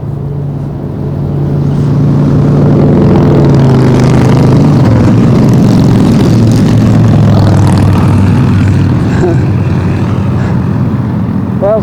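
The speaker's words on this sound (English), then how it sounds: "Motorcycles." Motorcycles passing on a West Virginia valley road, engine drone building over the first couple of seconds, then holding steady and fairly loud throughout, with shifting tones as the bikes go by.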